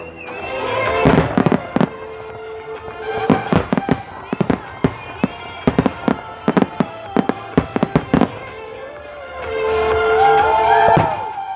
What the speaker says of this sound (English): Tonight for our fourth annual fireworks display